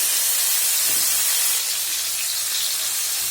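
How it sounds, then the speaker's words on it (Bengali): Pointed gourd (potol) slices fry in hot oil with a steady, dense sizzling hiss that holds evenly throughout, with no voices. "এবার ভেজে নিব পটলগুলো।"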